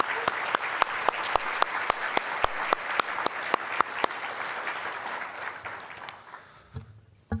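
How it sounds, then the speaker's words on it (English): Audience applause for sponsors at the City of San Marcos State of the City Address, dense, steady clapping from a crowd with a few sharp individual claps standing out, fading away at the end. "Let's give our sponsors another round of applause."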